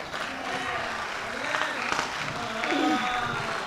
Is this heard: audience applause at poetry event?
yes